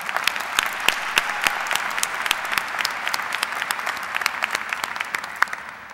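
Audience at a 2007 North Farmington High School graduation ceremony applauding, a steady wash of many hands clapping with sharp individual claps standing out, sustained at an even level throughout.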